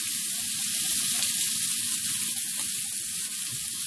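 Thin slices of cheesesteak beef frying in a hot pan give off a loud, steady sizzle that hisses continuously throughout, with faint occasional scrapes and no one speaking.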